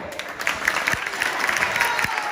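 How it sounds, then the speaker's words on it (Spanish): A church audience applauds a young musician, steady clapping from many hands at moderate distance, filling the moment without talk over it. "vamos a darle un aplauso a este joven"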